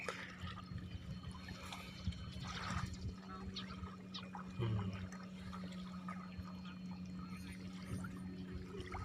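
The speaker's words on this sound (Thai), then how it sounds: "เสียงน้ำเสียงคลื่นนะครับ" Continuous reservoir water sloshing and lapping with broadband wash, a steady low hum underneath and faint voices in the background.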